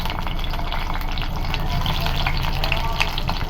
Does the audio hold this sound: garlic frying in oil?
yes